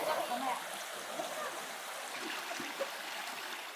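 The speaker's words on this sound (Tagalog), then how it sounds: "Mukhang may malapit na ilog." A river or stream flows nearby on a forest trail on Biliran Island in the Philippines, a steady broadband wash of water running continuously at moderate level with faint rustling.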